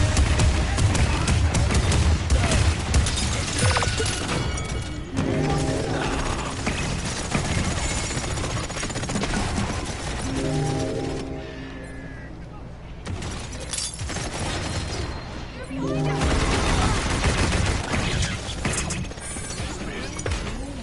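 Heavy gunfire in the Paladins video game on PS4, a dense, loud barrage of crashing shots with mechanical clatter, sustained throughout and easing briefly midway, with game voices speaking over it.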